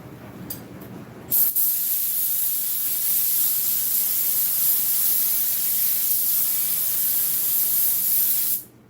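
After a few faint taps, a loud continuous spray hiss starts and runs steadily for about seven seconds, close by, then cuts off abruptly.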